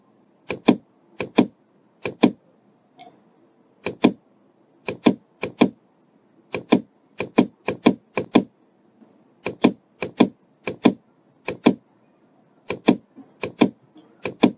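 A Focus Atlas 1311 UV printer runs a print pass, giving sharp, regular clacking bursts in quick pairs and clusters across the whole stretch, loud and close over a faint mechanical hum, with no talking.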